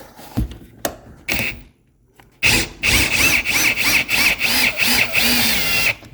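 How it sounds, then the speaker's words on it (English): A power drill fitted with a 90-degree right-angle bit whirs in short bursts under a KitchenAid dishwasher, a few brief clicks and spurts, a pause, then a longer run of loud, choppy drilling pulses close by. "I'm gonna try to use this 90-degree drill bit."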